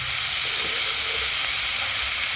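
Chopped cabbage, beans and carrot frying in a hot pan, a loud continuous hiss close up with a faint scrape of stirring.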